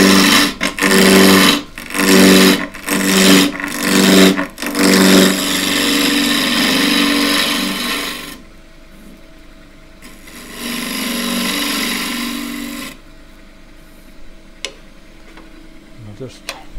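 A wood lathe spins a redgum box blank at 1500 rpm while a 3/8 bowl gouge cuts it, giving loud bursts of cutting broken by short pauses, then a steadier, quieter hum of the running lathe.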